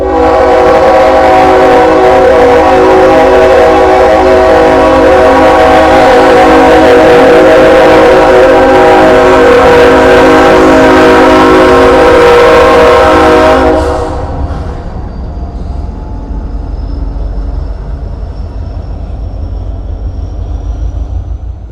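A passing train blasts its horn in a loud, sustained chord for over ten seconds, then cuts off, leaving a rumbling wheel-and-engine drone that continues as the train moves on.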